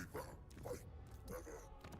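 A pet dog gives a few short yips and barks indoors, faint and somewhat distant, with low room noise between the calls.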